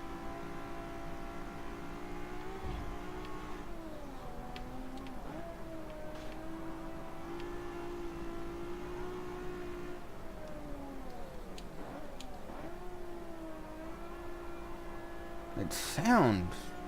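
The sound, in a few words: Ferrari car engine and muffler in Forza Motorsport 7 video game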